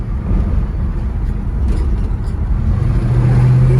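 A 1979 Chevy Impala Box Chevy cruising through the night, its engine a low steady rumble heard from the cabin with road noise underneath, rising slightly toward the end.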